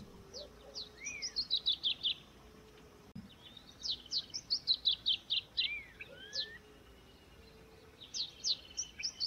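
A yellow-headed woodpecker gives repeated bursts of high, rapid, ringing notes in quick series, with a pause between bouts and short down-slurred whistles mixed in, over a quiet background.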